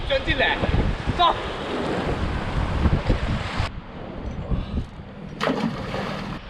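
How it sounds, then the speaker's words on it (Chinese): Strong wind buffets the microphone over crashing sea waves on a stormy coast, a loud, continuous roar with gusty surges throughout and a fresh gust near the end. "这几天真是大风大浪"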